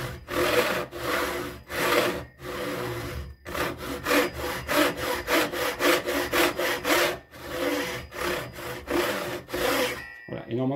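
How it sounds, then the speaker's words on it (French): A hand saw cuts through wood at close range in a training workshop, with rapid rhythmic push-and-pull strokes rasping loudly in steady bursts and brief pauses between runs of strokes. "Le premier trait de scie est fait."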